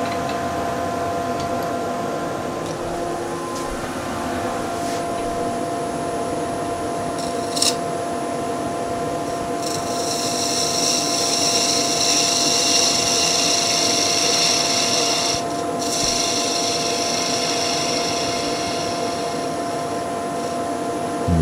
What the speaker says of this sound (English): So let's just clean off that surface.